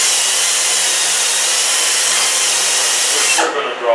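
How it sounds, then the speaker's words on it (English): A power wire wheel grinds steadily against the steel weld area of a broken mower deck, a loud continuous hiss-whine held close for several seconds before winding down. "Hit the wire wheel here and clean it up a bit as we go."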